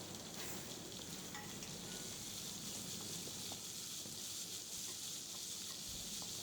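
Onions with curry leaves sizzle and crackle steadily in a hot frying pan, a soft continuous frying hiss with occasional small pops and stirring scrapes.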